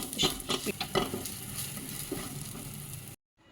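Sautéed broccoli being stirred in a pan, with a busy scraping and sizzling texture and a few louder clatters near the start, continuing steadily for about three seconds before cutting to silence.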